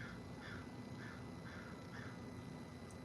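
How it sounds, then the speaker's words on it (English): A bird calling outdoors, a repeated harsh crow-like caw sounding about five times at a steady half-second pace, faint and somewhat distant over a constant hiss of background noise. "y'all hear that bird?"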